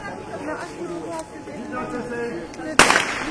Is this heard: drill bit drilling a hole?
no